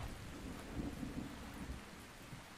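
Rain falls steadily with rolling thunder during a storm in the video game ARK: Survival Ascended, soft and distant, with no voices.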